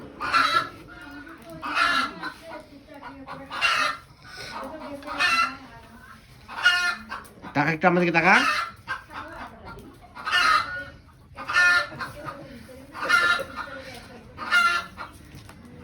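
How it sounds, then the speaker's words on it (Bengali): Chickens cluck and a rooster crows near an open fire in rural Dinajpur, loud bursts of calls repeating every second or two, with a rough crowing phrase midway and people talking alongside. "মুরগি পাগলা হয়েছে কেন?"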